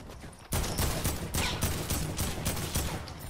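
Rapid video-game gunfire crackles in dense bursts after a short quiet lead-in, steady and loud throughout in a duo scrims match.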